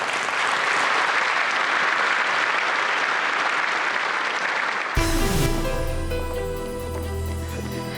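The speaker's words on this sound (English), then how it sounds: "Give them a round of applause" Audience applauding at a live stage show, loud and steady for about five seconds before giving way to music with a sustained tone and piano-like notes.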